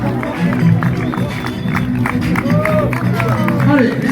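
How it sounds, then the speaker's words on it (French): Crowd clapping and cheering at the Grand Raid trail race finish in a stadium, dense and loud throughout, with voices and babble mixed in. "Allez, on applaudit les invités"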